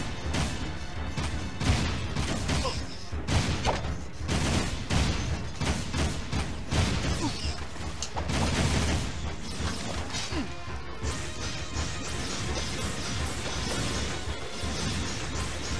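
Dense, nonstop combat from the video game Jak 3: rapid gunfire, smashing crashes and impacts pile up loudly throughout with no pauses.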